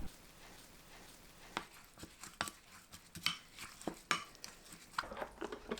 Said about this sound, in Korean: 매실청 2큰술, 참기름 2큰술, 생수 2큰술, 깨 2큰술, 청양고추, 파 섞어주세요.